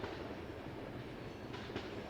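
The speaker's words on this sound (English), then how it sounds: "With 14 coaches making up the consist, a pair of Class 1116 locomotives are needed for the trip over this line" A 14-coach passenger train hauled by a pair of Class 1116 locomotives heads away on the Villach to Wien service, a steady, faint rumble and rolling clatter of wheels with no voices.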